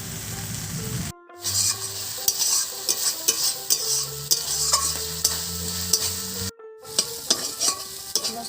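Spice masala for a village-style catfish curry sizzles and fries in a pan while a utensil stirs and scrapes in uneven bursts, with two brief cutoffs and a tonal hum underneath, no speech.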